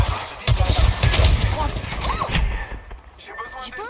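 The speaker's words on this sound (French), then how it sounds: "L'ennemi me tire dessus." Enemy gunfire in the video game Apex Legends, a loud burst of rapid shots with impact clatter over game noise, fading toward the end as a voice speaks underneath.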